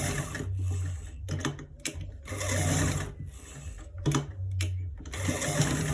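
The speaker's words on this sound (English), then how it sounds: "We are stitching it right now" A sewing machine stitches a trouser front pocket in several bursts of rapid, steady mechanical chatter, separated by short pauses. The machine is close and fairly loud, with no clear talk over it.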